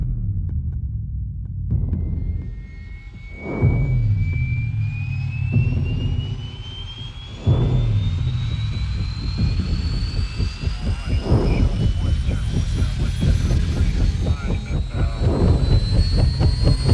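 A helicopter ferrying a survey crew in the Kong: Skull Island trailer, a steady rising engine whine and rotor drone held loud throughout, with heavy booming impacts and music hits landing at intervals.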